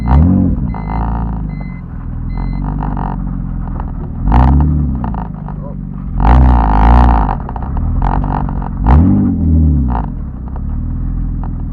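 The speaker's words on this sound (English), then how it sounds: "I'm actually just gonna drive next door real quick to return the Mac Impact that I borrowed like a week ago" A car's engine rumbles steadily while driving, with several deep revs rising and falling in loud, rhythmic swells close to the microphone.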